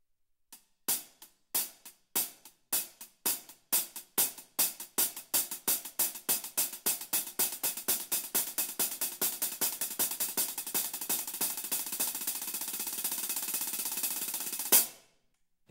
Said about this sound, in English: I always accent the second stroke. I find that especially important when I play double stroke rolls